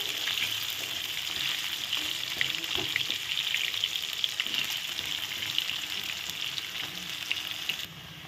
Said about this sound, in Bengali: আলুটা একটু ভেজে নেব। অল্প লাল লাল করে ভেজে নেব।